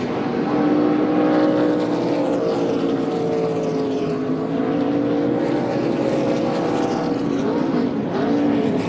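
NASCAR race cars roar around Daytona, a loud sustained multi-engine drone with shifting pitch as the pack passes, continuous and unbroken with no talking.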